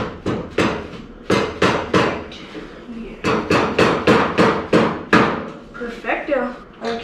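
Repeated sharp hammer blows on metal while assembling a VW Baja Bug chassis in a workshop, struck in quick bursts of several hits with short pauses, loud and close, with no talking.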